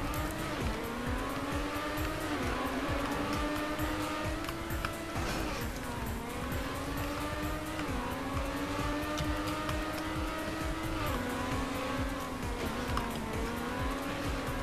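A race car in TrackMania Nations Forever drives round and round in circles, its engine whining steadily with rising and falling pitch sweeps as it repeatedly revs, continuous and fairly loud throughout.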